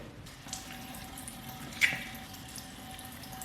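A sink tap runs steadily during face washing, a soft, fairly distant stream of water with a small splash partway through and no voices.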